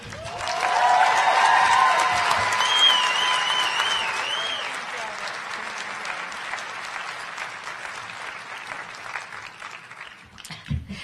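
A graduation audience gives a student speaker a long, loud round of applause that swells, then thins and fades out over about ten seconds, with some cheering early on.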